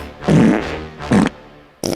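Cartoonish fart sound effects burst out in three separate blasts: two longer, buzzy ones early on, then a short sharp one at the end, loud and close with quiet gaps between.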